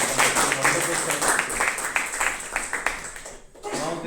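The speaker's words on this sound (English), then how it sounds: "Let's have a round of applause for Sanjay." An audience at a Toastmasters club meeting applauds a speaker with dense, steady clapping that lasts several seconds, sounding close and full before it thins out briefly near the end.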